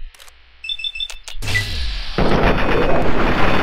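Enemy gunfire in Fallout 3 erupts as a sudden loud burst midway, then rolls into a dense, sustained roar of shots and blasts that holds to the end, after faint clicks and a short tonal chime.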